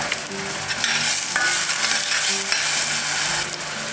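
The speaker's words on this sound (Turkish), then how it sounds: "Unum da kızarıyor, soğanım da kızarıyor." Onion and a spoonful of flour fry together in hot oil in a pan for diş hediği soup, giving a steady, close sizzle with the soft scrape of stirring running throughout.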